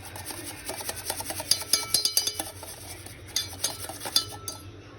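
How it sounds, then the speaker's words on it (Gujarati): Yogurt and sugar being whisked in a bowl, a quick run of light metallic clinks and scraping taps against the rim, close and fairly soft with no talking. "ચલો એને સરસ રીતે પહેલાં ફેંટી લઈએ"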